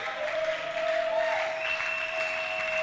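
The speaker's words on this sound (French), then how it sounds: "Est-ce que quelqu'un peut acclamer le Seigneur?" A church congregation at a prayer retreat applauding and acclaiming the Lord, steady dense clapping from a large crowd over a sustained held keyboard tone.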